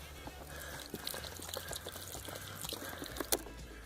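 Water poured from a bottle rinses blood off a freshly field-dressed dove breast outdoors, a faint trickling splash with soft handling noises and a brief louder spatter near the end.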